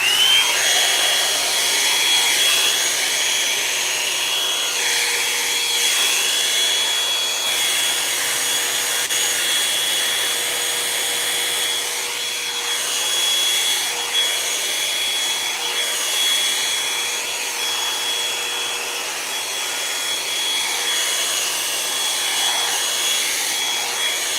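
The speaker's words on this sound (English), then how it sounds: "I'm going to grab our blow dryer. Hopefully it's not too loud." A hair dryer blows continuously with a loud, steady whirring whine that wavers slightly as it moves, close by and alone.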